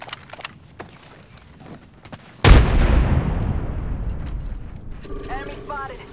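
Frag grenade explosion in Apex Legends: after quiet footsteps and game sounds, one loud close boom with a long rumbling decay, followed by a brief game tone.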